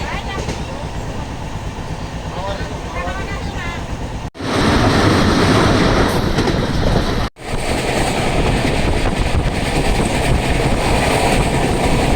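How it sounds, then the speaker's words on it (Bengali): Steady, loud rumble of a moving passenger train heard from inside the carriage on a rainy journey to Deoghar station, continuous rolling noise with faint rail clatter; voices talk briefly near the start. "এখন আমরা ট্রেনে উঠে বসলাম।"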